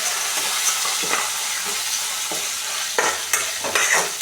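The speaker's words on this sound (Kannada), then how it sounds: "ಹಿಂಗೆ ಆಗ್ತಿದ್ದಂಗೆ ನಾನು ಹಸಿಮೆಣ್ಸಿನ್ಕಾಯಿ ಹಾಕೋತೀನಿ. ಹಸಿಮೆಣ್ಸಿನ್ಕಾಯಿ ಚೆನ್ನಾಗಿ ಹುರ್ಕೋಬೇಕು." Green chillies frying in a pan for chitranna: a continuous close sizzle of hot oil with repeated scraping stirs of a spoon against the pan, and no talking.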